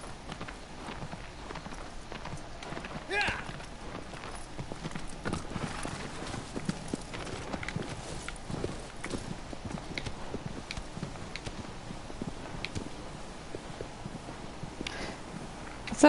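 A horse's hooves clip-clop at a steady trotting rhythm in the video game Shadow of the Colossus, mid-distance, over a soft ambient bed, with a brief whinny-like note and no clear talk.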